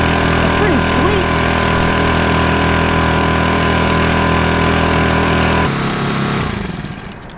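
A cheap outboard motor bought on Amazon drones loudly and steadily on a small boat, then is shut off and its noise winds down near the end.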